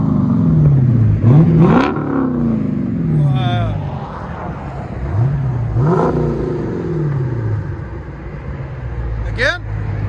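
A 2021 Dodge Challenger Scat Pack with a 6.4L HEMI V8 and dual exhaust pulls away outdoors in wind, its engine rising and falling through several rev sweeps, close and loud, with voices faintly underneath.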